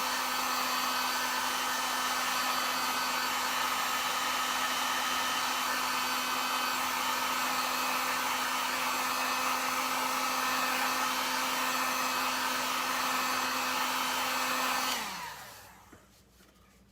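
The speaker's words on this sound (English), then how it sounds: "And what did I do with my blow dryer?" A hair dryer runs steadily with a constant whirring hum and airy rush, close by, then switches off and winds down at the end.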